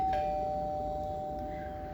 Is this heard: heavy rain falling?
no